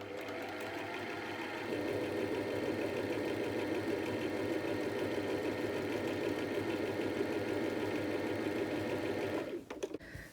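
A sewing machine zigzag-stitches around the edges of two pieces of fabric for a doll skirt, its fast, even mechanical chatter running steadily up close before stopping near the end.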